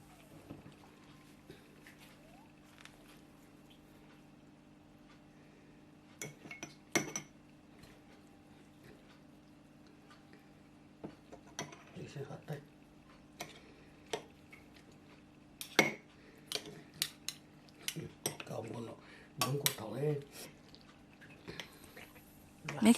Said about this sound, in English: Now you can put the kimchi in glass jars.